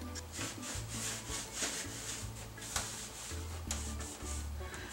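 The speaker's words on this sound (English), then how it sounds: "I'm just giving my wood trim a once over" Steady rubbing and wiping over a wooden surface, with repeated back-and-forth strokes at close range and a low hum underneath.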